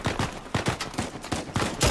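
Rapid gunfire in the action game Uncharted 4, a steady string of close, punchy shots spaced about a quarter-second apart, loud and continuous across the short burst.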